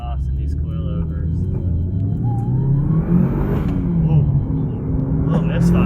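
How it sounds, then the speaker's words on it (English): A stock Mitsubishi Evo with aftermarket exhaust, driven hard from inside the car: loud continuous engine roar building under acceleration, with brief stumbling misfire hiccups breaking the steady drone. "There's a little misfire there, like maybe overboost or something."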